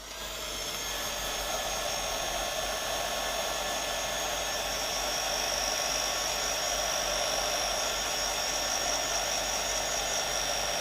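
Continuous blowing roar of a craft heat gun set to low heat, aimed at a piece of artwork, starting after a brief quiet moment and holding steady and close throughout, with no voices.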